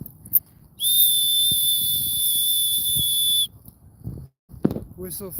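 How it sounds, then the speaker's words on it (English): A loud, steady high-pitched whistle blast to call a dog at a dog park, held for nearly three seconds, with faint rustling and footsteps before and after. "I had already incorporated whistles into our dog walk to call the dog"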